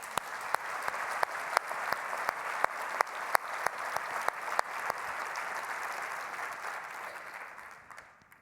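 Audience applause at an annual meeting welcome session, a steady crowd of clapping with a few sharp, close claps standing out rhythmically, fading gradually near the end.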